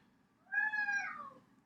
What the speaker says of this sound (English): That was an impressive meow.